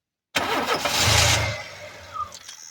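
An engine on a vehicle of uncertain running condition cranks and catches after fuel is pumped: a sudden loud burst of starter churn and roaring combustion that swells, then sags and sputters into uneven running, close by, without speech.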